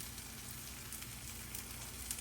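Cheese sandwich toasting on a hot griddle, giving a faint, steady sizzle and crackle with no pauses.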